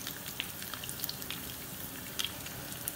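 Chicken pieces fry until brown in a pan, giving a soft, steady sizzle with scattered small pops and spits and no talking.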